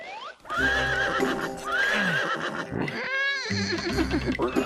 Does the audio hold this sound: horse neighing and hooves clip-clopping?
yes